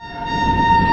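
An AII intercity express train pulls out of Kherli railway station in India, a loud steady rumble with a sustained tonal hum or horn held throughout, close and unbroken.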